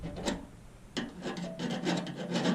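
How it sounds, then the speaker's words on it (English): Hand file rasping burrs off the grinder-cut edge of an AN fuel fitting on a fuel tank sending unit for an LS swap, in close repeated strokes with short pauses between. "since I cut this with a grinder, is I gotta file all this leftover thing down here on these"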